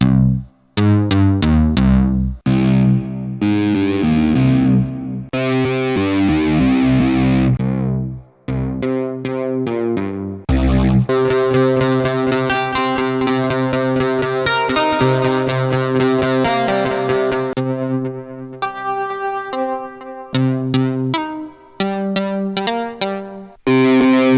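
Synthesizer played through preset patches on a Sonicake Pocket Master effects pedal, heard as loud sustained and arpeggiated tones with distortion, chorus and reverb whose character shifts sharply from patch to patch, alone with no talking.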